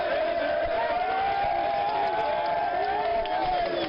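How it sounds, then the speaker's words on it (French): A crowd of citizens cheering and applauding the president as he leaves a mosque, a steady dense roar of voices and clapping that holds without pause. "les applaudissements des populations se sont fait entendre dans la joie et dans l'allégresse"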